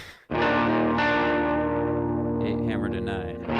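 Electric guitar played through heavy distortion and effects, working the third and fourth tones with a hammer-on in a song; a loud, sustained, ringing chord tone fills the whole stretch after a brief quiet start.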